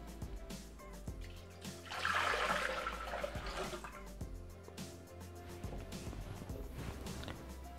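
Water poured into an unwashed Thermomix (Bimby) bowl after artichokes, a steady splashing gush building for a few seconds over a faint kitchen hum.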